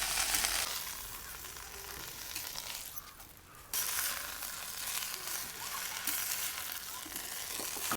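Vegetables sautéing in a pan give a steady, close sizzle for about eight seconds, dipping briefly before surging back louder, with no voices.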